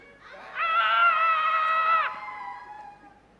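A voice imitates people screaming as they flee a dragon: one loud, close, sustained high-pitched cry lasting about a second and a half, trailing into a softer tail.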